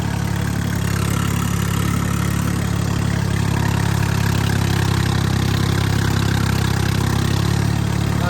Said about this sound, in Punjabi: ਵਧੀਆ ਚੱਲਦਾ ਟਰੈਕਟਰ